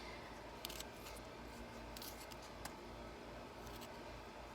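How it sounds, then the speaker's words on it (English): A rotting dragonfruit plant stem being cut, heard as several faint, sharp snips and crisp cuts over a quiet background hiss, with no talking. "So I'm gonna go ahead and cut that."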